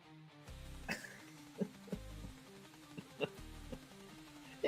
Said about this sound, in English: Oh, I'm gonna have to cough again.